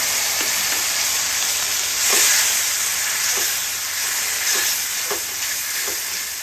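Potatoes frying in a pan with spices make a constant hissing sizzle, broken by regular soft taps of stirring at a steady pace. No one speaks.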